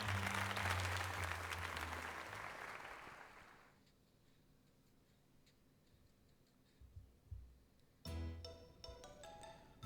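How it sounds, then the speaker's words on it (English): A burst of clapping and cheering applause in Pokémon Legends Z-A fades out over a few seconds, followed by quiet, then sharp chiming game sound effects near the end. "let us give another heartfelt round of applause to Spare Bear."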